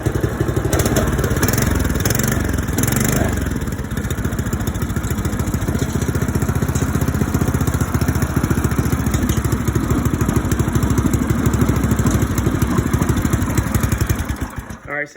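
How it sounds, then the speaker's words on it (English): A powersports engine with its stock exhaust runs steadily on a chilly morning, a loud, close, rapid putter with a fast even firing beat that holds for the whole stretch before cutting off at the end. "Alright, so that's stock exhaust."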